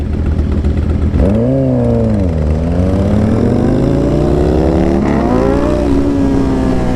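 A Ducati motorcycle revs loudly and close during a street race, its engine pitch climbing and dipping through several throttle swells, with no voices over the roar.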